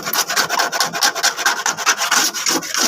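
Motorcycle paint is sanded by hand with fine sandpaper, a loud, close, rhythmic rasping of quick back-and-forth strokes with no talking.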